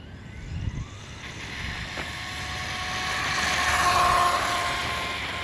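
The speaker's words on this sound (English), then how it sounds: "Yeah, it's not the greatest sounding RC." An RTR FMS FSC18 Ford Bronco RC truck does a speed run outdoors, its motor and drivetrain whine building steadily as it gets faster.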